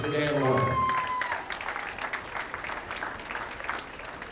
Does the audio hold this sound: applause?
yes